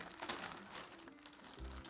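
A plastic bag crinkles steadily as a package is opened, a close, continuous rustle with no talk.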